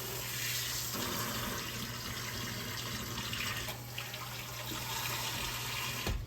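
Hot water runs from a kitchen tap into a jar of brine for homemade pickles, a steady, rushing splash with a low hum beneath, holding fairly constant and ending with a brief change as the flow stops.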